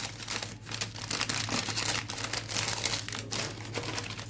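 A Gaafar El Omda biscuit packet being torn open, its plastic wrapper crinkling and crackling continuously at close range in quiet surroundings, with no talk.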